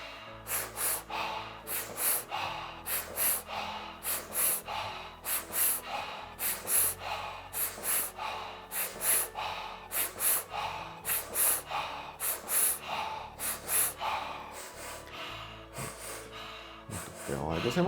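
An energetic deep-breathing exercise: forceful inhales and full, released exhales repeat in a steady, fast rhythm of about twenty close, loud breaths, with no other sound in between.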